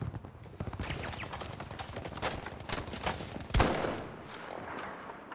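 Gunfire in the video game Battlefield V, with bursts of rapid shots in a sniper fight and one sharp loud report near the middle, all under game ambience.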